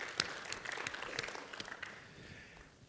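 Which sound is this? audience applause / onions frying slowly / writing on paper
audience applause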